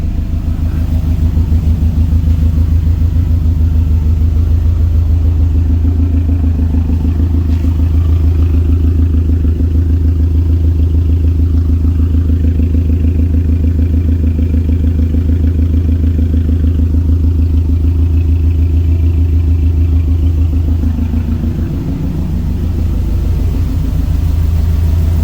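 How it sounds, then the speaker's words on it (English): A car engine idles steadily with a deep, even rumble and low mechanical clatter, running close by and unbroken for the whole stretch. "the car just sounds a lot happier"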